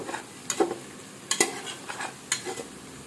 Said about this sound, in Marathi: त्यासाठी असं सोनेरी कलर होईपर्यंत फ्राय करायचं.